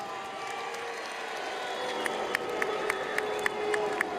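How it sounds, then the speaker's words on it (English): Crowd noise fills an MMA fight venue after a bout, a steady murmur of cheering and clapping with a few sharper shouts and claps poking through toward the end. "both fighters a big round of applause"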